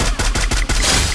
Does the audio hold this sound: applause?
no